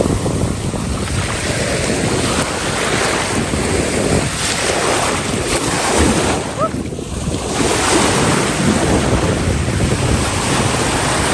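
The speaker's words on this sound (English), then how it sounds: "And it's so windy." Strong wind roars and buffets the microphone without pause, over a constant wash of surf along the shore.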